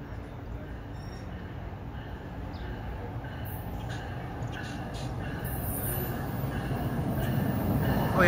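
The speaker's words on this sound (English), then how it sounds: "Alright, here comes a train to New York." NJ Transit commuter train pulling into Short Hills station, New Jersey, a steady rumble of rail cars growing gradually louder over the whole stretch with faint wheel squeal near the end.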